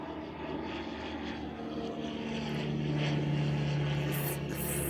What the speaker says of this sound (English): I have an airplane going over